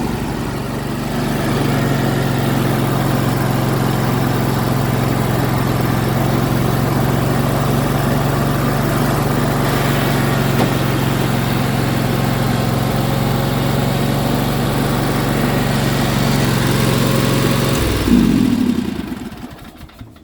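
A Yamaha YT6800 lawn tractor engine fires without choke and settles into a steady, loud, close idle that holds for most of the stretch before cutting out near the end.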